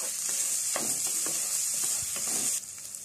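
Raw rice frying on low heat for chicken biryani, a continuous soft sizzle broken by several scraping stirs of a spoon across the pan, close and moderate in level, with no talking.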